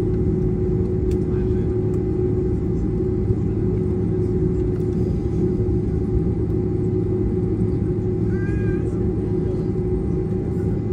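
Inside the cabin of a 30-year-old Lufthansa Boeing 747-400 taxiing toward the runway at Frankfurt Airport, a continuous low engine rumble and hum fills the space, steady and close throughout, with faint background murmurs.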